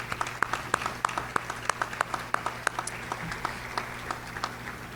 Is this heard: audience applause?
yes